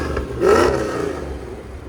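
Supercharged V8 of a 2004 Mercedes E55 AMG fitted with headers and an X-pipe, giving one short rev that swells near 0.5 seconds and then settles into a steady, throaty idle, heard up close with no talking.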